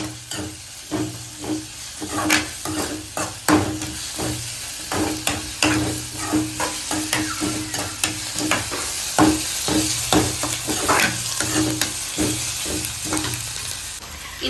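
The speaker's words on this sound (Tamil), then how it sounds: "வெங்காயம் பொருசு பொருசா இருக்கிறதுனால சீக்கிரமா வதங்கிடும் லைட்டா கிண்டி விட்டுருக்கோம்" Onions sizzle in a pan with a steady frying crackle, while a spoon stirs and scrapes them in repeated clinks and knocks, close up, with no talking.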